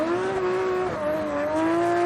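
A drift car at Formula Drift Japan, Koichi Yamashita's TMS Racing Team Good Ride car number 37, holds a loud, steady engine drone with sustained tire squeal, dipping briefly then climbing again.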